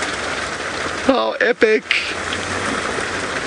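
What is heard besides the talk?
steady downpour of rain on safari drive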